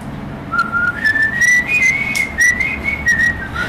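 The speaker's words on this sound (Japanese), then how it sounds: "今日口笛まで聞けるとは" A person whistles a wavering melody for a few seconds, fairly close and clear, with soft room noise underneath and no talking.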